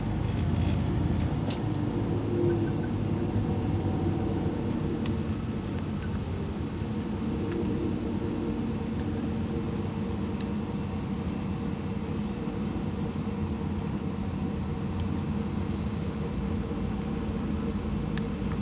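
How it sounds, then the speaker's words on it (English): Traffic on the Las Vegas Strip, a continuous dense rumble of engines and road noise heard steadily throughout, with faint scattered higher tones over the drone. "Traffic on the strip"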